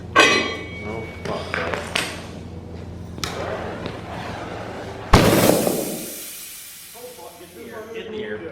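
Tire bead seating on a 31-inch tire with ether and a torch on an LS-swapped OBS Chevy: one sudden loud pop and blast of rushing air stands out midway, with voices talking before and after amid hissing shop noise.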